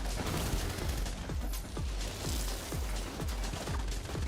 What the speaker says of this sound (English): Unlimited 2 million explosions